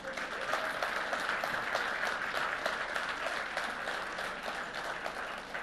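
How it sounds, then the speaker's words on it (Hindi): An audience at a literary festival gives sustained, dense applause that holds at a steady level from start to finish, with many hands clapping together and no talk over it. "उस तक जोरदार तालियां आपकी पहुंच जाएं"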